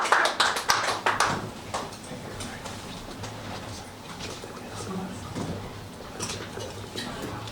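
Audience clapping at a standup comedy show, loud bursts of applause at first that quickly thin into scattered claps over a murmuring crowd.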